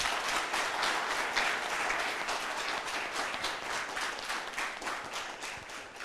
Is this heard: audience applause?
yes